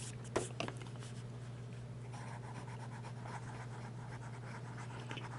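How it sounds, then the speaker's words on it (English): Fountain pen with a medium number 6 Anderson steel nib on a Hale 750 scratching across paper, a faint close scratching with a few louder strokes at the start, over a steady low hum. "Now we're going to do the Anderson medium number 6 steel nib on the Hale 750."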